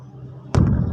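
A bedug, the large Indonesian mosque drum played in the Semarang dugderan tradition, struck once partway through, giving a single loud, deep, booming thump that rings on after a quiet low hum.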